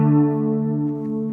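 Sustained electric guitar chords ring out through an effects pedal, dense and shimmering with a slightly doubled, echoing tail; no talking.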